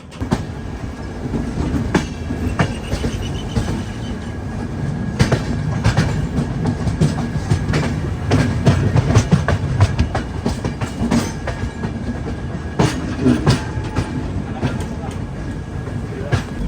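Duronto Express, an Integral Coach Factory Chennai coach, running on rails: continuous loud rolling rumble with repeated clickety-clack wheel beats and rattles across the whole stretch, a voice talking over it at times.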